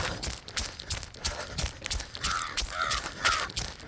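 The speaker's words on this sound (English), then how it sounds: "Some crows." Several crows caw in harsh, repeated calls over busy outdoor background noise in Helena, Montana, fairly close and loud.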